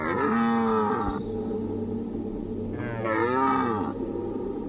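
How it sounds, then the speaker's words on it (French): A male red deer stag bells during the autumn rut, giving two long, hoarse, groaning roars separated by a short gap, fairly close and loud over a low background. "Pour ce faire, les mâles vont bramer."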